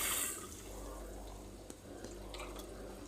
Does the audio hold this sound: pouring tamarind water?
yes